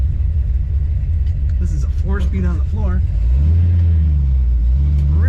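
A 1962 Chevrolet Biscayne two-door with a four-speed floor shift idles with a steady low rumble, its engine note swelling louder in the second half while someone talks over it.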